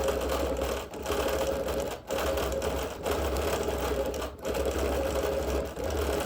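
A sewing machine quilts over busy printed fabric in fast, steady stitching runs, close and clear, briefly pausing every second or so before resuming its rapid mechanical chatter.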